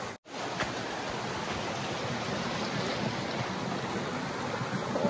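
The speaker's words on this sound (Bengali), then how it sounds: "তো পাহাড়ের মধ্যে ছোট ছোট ঝর্ণা টাইপের রয়েছে।" Small mountain waterfalls and a stream of very cold water rush in a steady, close, full-bodied roar, continuous and even apart from a brief dropout at the start.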